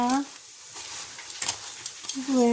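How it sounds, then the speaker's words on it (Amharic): Fatira flatbread frying in a pan, a soft steady sizzle with faint scraping and stirring noises, fairly quiet and close, with a brief harmonic tone at the start and end. "ከዛ ሶስተኛውን እናወርጋለን እዚህ መጥበሻው ላይ ማለት ነው"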